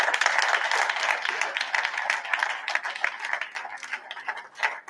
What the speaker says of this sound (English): I would like a round of applause for the whole team at Fintech Belgium for setting up this great event.